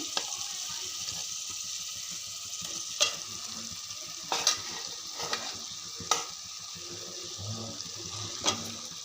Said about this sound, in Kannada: ಈ ಥರ ಆದಮೇಲೆ ಲೋ ಫ್ಲೇಮಲ್ಲಿ ಗ್ಯಾಸನ್ನು ಸಣ್ಣಕ್ಕೆ ಮಾಡಿಟ್ಕೊಂಡು ಮಾಡಿದ್ವಲ್ಲ ರೈಸನ್ನು ಅದನ್ನು ಮಿಕ್ಸ್ ಮಾಡ್ಕೊಳ್ಳೋಣ.